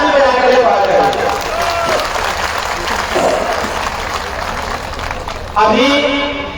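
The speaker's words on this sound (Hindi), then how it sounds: "सभी लोग अपने अपने नाम पर अपने अपने नेता के लिए जोरदार ताली बजाकर स्वागत करेंगे" A crowd at a political rally in Ghosi claps to welcome leaders. Broad, ongoing applause sits under a loud, amplified voice that talks over most of it.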